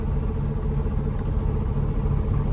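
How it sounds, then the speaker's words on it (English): A truck engine idles steadily with a deep, even rumble while warming up after a night of rain, close and constant with no talk. "we're going to let the truck warm up"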